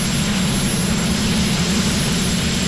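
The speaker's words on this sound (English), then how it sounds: "That's one engine spinning it." A helicopter's turbine engine whines loudly and continuously as it spins up the rotor, a dense, steady roar close by with a high tonal whine on top and no voices.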